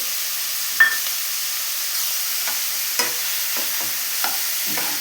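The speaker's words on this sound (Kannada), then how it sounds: "ರುಚಿಗೆ ತಕ್ಕಷ್ಟು ಉಪ್ಪು, ಬೆಳ್ಳುಳ್ಳಿ ಹಾಕಿ ಚೆನ್ನಾಗಿ ಫ್ರೈ ಮಾಡ್ಕೊಳ್ಳೋಣ." Onions, mustard seeds and curry leaves frying in hot oil in a pan give a steady, loud sizzling hiss, broken by a few soft stirring scrapes, with no voices.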